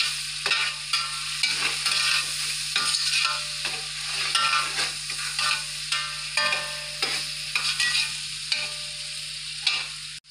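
Tomatoes frying in a pan for mutton yakhni pulao, a steady bright sizzle with repeated stirring scrapes at a fairly even rhythm and a low kitchen hum beneath, with no talk.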